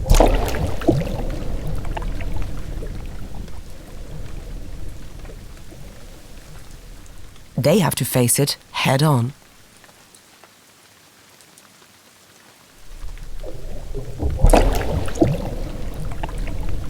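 A thunderstorm with heavy rain over a meadow: a steady downpour drums throughout, broken by loud crackling thunder bursts midway, then a brief quiet lull before the rain returns. A narrator speaks briefly.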